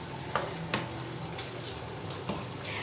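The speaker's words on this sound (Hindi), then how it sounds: "अच्छे से फ्राई कर लेना है इनको।" Chicken seasoned with black pepper, salt and crushed red chilli fries in a pan, giving a soft sizzle with a few sharp spoon clacks against the pan and no talking.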